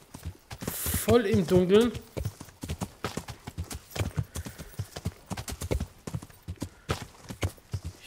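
Horse hooves clip-clopping in Kingdom Come: Deliverance as a horse is ridden along at a steady walking rhythm, each hoof strike distinct, with a brief whinny early on and someone talking over the ride.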